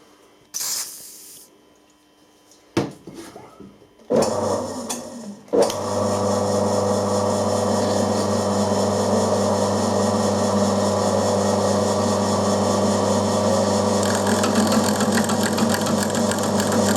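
Gear cutting on a milling machine under power feed, with cast iron and aluminium as the workpieces: a few clunks and a clutch engaging, then the machine settles into a loud, steady whine with grinding and hiss, running without talk.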